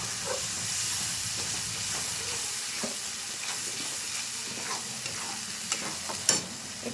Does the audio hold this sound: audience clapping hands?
no